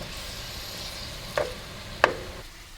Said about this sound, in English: Right now I've got a pound of ground beef, an onion, and a green pepper going just to cook down